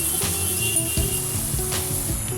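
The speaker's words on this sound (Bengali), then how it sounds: "নুন আর হলুদ দিয়ে ভালো করে নেড়ে চেড়ে শাকটা ভাজতে হবে" Dhenki greens fry in a pan with salt and turmeric, a short burst of close sizzling hiss broken by stirring scrapes and soft knocks, no voices.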